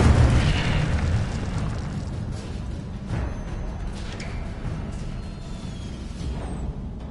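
An Incendio fire spell in Hogwarts Legacy erupts with a loud initial boom that decays into a long, rumbling roar of flames, with a few sharper pops along the way.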